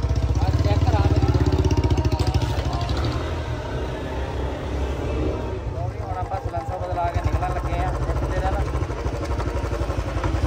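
A Bullet motorcycle fitted with a firecracker-popping silencer idles close by with a steady, loud, rhythmic low thumping that runs throughout, with engine-like drone and slight variation in the beat.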